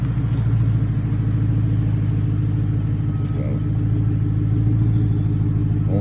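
A car engine, apparently a '69, idles before a test drive, a loud, steady low rumble that stays constant for six seconds with faint background sounds.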